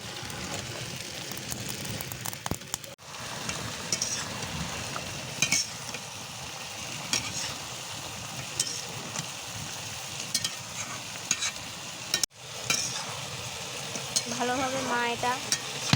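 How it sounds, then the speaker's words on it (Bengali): Beef and potatoes with spices stir-fried for beef bhuna: a close, moderate sizzle broken by frequent spatula scrapes and clanks against the pot, with two brief dropouts. "এটা মশলাটা দিয়ে আলু এবং মাংসগুলো দিয়ে কষিয়ে নিচ্ছে।"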